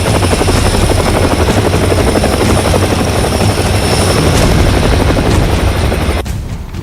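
An Indian indigenous light combat helicopter thunders close and loud with a steady rotor chop and turbine whine, then drops off sharply near the end.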